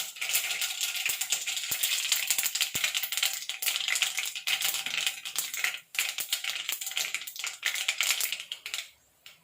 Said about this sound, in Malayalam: കടുക് പൊട്ടി.